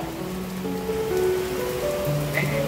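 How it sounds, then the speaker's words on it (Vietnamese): Heavy rain pours down on a Saigon street as a steady, loud, dense wash of drops drumming on surfaces, constant through the moment with no talking. "Quá trời mưa quá trời lớn."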